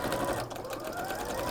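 Sewing machine stitching through a fabric wall hanging, a steady continuous whirring hum that runs at close range for the whole moment, with faint speech underneath.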